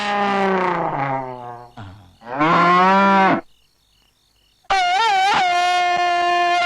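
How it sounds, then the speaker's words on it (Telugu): A buffalo lets out several loud, close moos, long drawn calls separated by a brief pause and a short quiet gap, with no talk over them. "కనకరాజు గేదె పెదాలు ముద్దు పెట్టుకున్నాడు."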